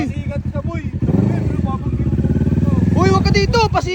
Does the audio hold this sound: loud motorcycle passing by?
yes